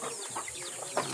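Backyard chickens clucking around feeding time in the afternoon, soft, scattered clucks and short calls from several birds, faint and fairly close, with no talking.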